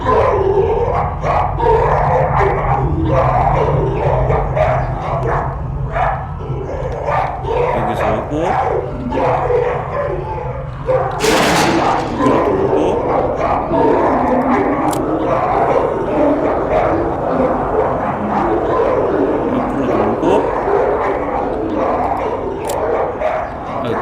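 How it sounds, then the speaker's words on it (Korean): Dogs barking in the horror video game Amenti, repeated yips and barks scattered through a dense bed of game noise and rustling, with a sudden loud burst midway. "개가 짖는 것 같네"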